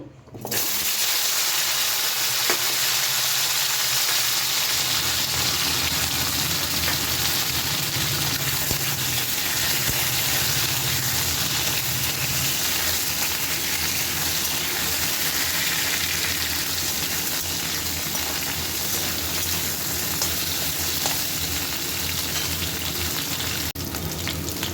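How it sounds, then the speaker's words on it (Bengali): Gathi kochu taro and potato pieces fry in oil left over from frying fish, a loud, dense, unbroken sizzle heard close up throughout. "এবারে এই মাছ ভাজা তেলের মধ্যে গাটি কচু আর আলু ভেজে নেব"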